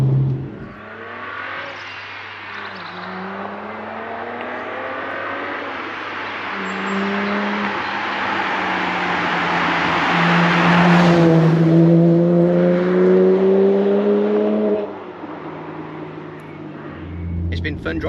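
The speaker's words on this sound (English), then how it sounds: "It's been fun driving this car around." A black BMW 1M engine revs and accelerates hard, its pitch climbing through the gears in long sweeping pulls that peak loudly midway and then ease off.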